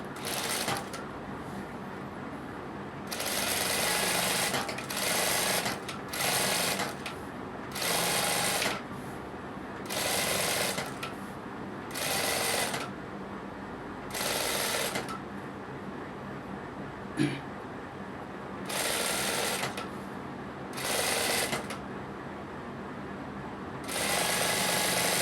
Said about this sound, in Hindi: इस पे सीधे सिलाई मार देंगे।